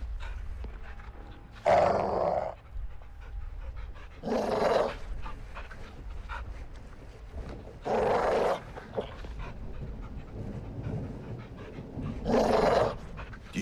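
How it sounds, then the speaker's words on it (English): A large caged dog in Modern Warfare II gives four loud bursts of breathy panting and growling, spaced a few seconds apart over low game ambience. "Do you see the caged dog? Big geezer. If he barks, shoot him"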